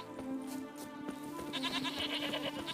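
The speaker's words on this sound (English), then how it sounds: "The goat's blocking the path." A goat bleats in The Witcher 3 open-world game, a wavering, nasal call heard over a steady, moderately quiet game ambience, with no speech.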